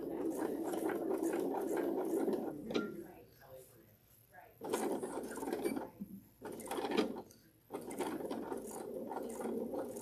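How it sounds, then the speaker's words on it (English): A sewing machine runs in reverse, stitching backwards up to a mitered corner, its rapid mechanical whir steady at first, then dropping out and restarting in short bursts with pauses between. "now we're just going to sew backwards right up to that miter"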